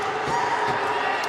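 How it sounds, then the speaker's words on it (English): Slovakian fans at a women's under-20 hockey game against the USA boo loudly, a dense sustained crowd roar that fills the arena without a break. "They're now booing."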